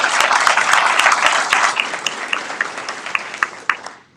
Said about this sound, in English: round of applause for Adriana